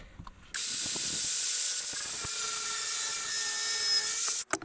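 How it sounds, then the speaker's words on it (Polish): A power saw cuts steadily through a wooden beam in a camping trailer corner, a loud sustained whine and grind lasting several seconds before stopping abruptly. "Tutaj muszę uciąć tą belkę, także biorę piłę i wycinam."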